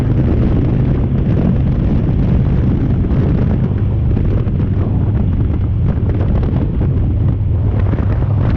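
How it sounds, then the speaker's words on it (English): Strong wind buffets the microphone continuously while riding a motorcycle, a loud, roaring rush with a low rumble and no pauses. "it's windy over here."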